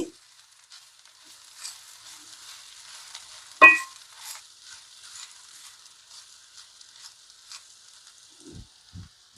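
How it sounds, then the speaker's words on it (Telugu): Quiet, faint sizzle of coconut and lentil paste being stirred into frying onions, with scattered soft spatula scrapes and one sharper clink partway through. "అంతా ఒకసారి కలుపుకోవాలండి"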